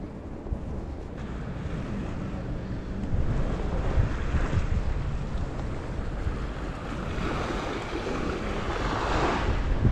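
Sea waves roll and wash onto Büyükçekmece beach in a continuous broad surge, loud and close, with wind buffeting the microphone and the roar swelling toward the end.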